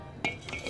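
A metal lid is set onto a pot of boiling sambar with vegetables, giving a sharp close clink and then a softer second clatter over a quiet kitchen background.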